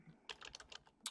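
Quick bursts of keystrokes on a computer keyboard, about a dozen close, crisp taps in an uneven rhythm, quiet and alone.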